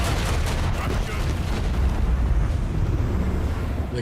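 A sustained, rumbling video game explosion with crackling debris in Warhammer 40,000: Rogue Trader, loud and continuous, fading slightly toward the end.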